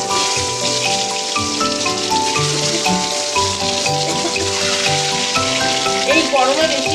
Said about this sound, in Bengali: দেখুন ডিমটা আমি এবার একটু তেলে ভেজে নেব।